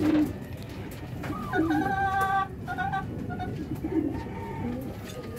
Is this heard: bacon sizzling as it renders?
no